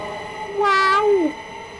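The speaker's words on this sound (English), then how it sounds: "The horn has a really good Doppler effect too." A Southeastern Class 375/3 electric train horn on the Medway Valley Line, a single loud two-tone blast lasting under a second that bends downward in pitch as it passes, over a low background rumble.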